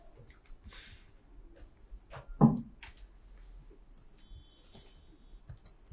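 Computer keyboard typing as an SQL query is entered: a steady run of light, close key clicks with one louder clack midway, quiet throughout.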